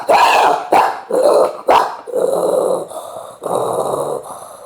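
A voice imitates big dogs fighting: four loud, close, gruff barks in quick succession, then a sustained snarling, growling tussle that rises and falls.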